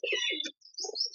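Grey junglefowl chicks at a zoo in Warangal giving a few quick, faint high chirps and peeps in short bursts, with a brief gap between them.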